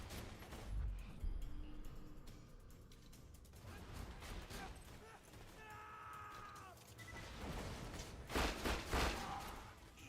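An enemy blows up in the video game Borderlands 2 amid a busy mix of clanking mechanical effects and gunfire, with bursts of crashing noise near the end, moderately loud.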